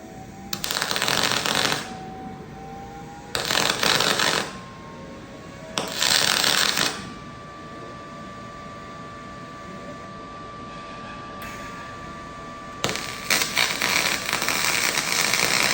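Aluminum MIG welding with an HTP spool gun gives four separate bursts of dense, crackling buzz with slight popping, each about a second or more long, with quieter hum between them.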